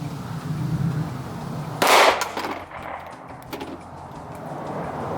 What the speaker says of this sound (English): Let me fire one more shot.